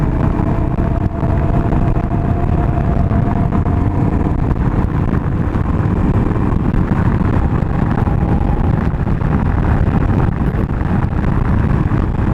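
A 1989 Honda Transalp XL600V motorcycle holds a steady engine drone while riding on open blacktop, loud and close with rushing wind noise throughout.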